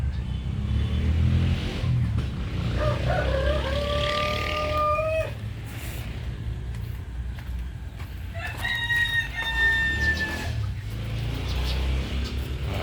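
Roosters crow twice among young Brahma chickens in a backyard, a drawn-out call midway and another later, over a constant low rumble of background traffic and soft clucking.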